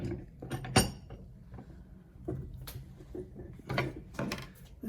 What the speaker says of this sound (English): I'm now going to pare it down with the chisel.